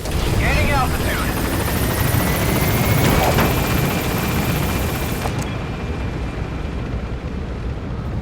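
In Metal Gear Solid V: The Phantom Pain, an extraction helicopter lifts off with a loud, continuous rotor roar and engine rumble that stays close and full before easing off toward the end, with a radio voice speaking over it.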